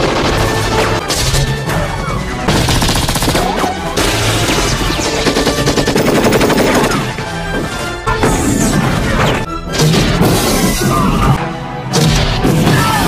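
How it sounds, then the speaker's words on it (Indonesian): Gunfire and exploding combat vehicles from the film Rambo III: continuous dense, loud battle noise of rapid gunshots, crashes and blasts layered over a steady rumble and music, with no break for thirteen seconds. "Rambo masih bisa melawan balik, dan berhasil meledakkan beberapa kendaraan tempur milik militer Rusia"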